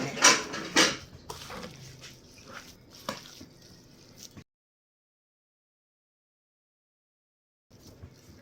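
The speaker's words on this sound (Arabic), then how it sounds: "هاكا تصب الزيت وتخلط" Vegetable oil poured into Tunisian harissa and stirred in, with soft scraping and sloshing for about four seconds, then silence before faint movement resumes.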